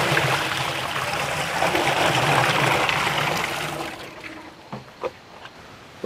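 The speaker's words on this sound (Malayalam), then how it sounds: "വെള്ളം ഒഴിക്കാം." Water pours steadily into a cooking pot on the stove while tapioca is being boiled, a loud continuous splashing rush that stops about two-thirds through, followed by a few light clunks of the pot.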